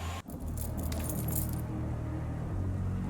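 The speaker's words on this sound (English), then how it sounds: "My keys rattled in the lock." Keys rattle and jangle in a door lock, a steady metallic clinking close by after a brief bump at the start, with no talking.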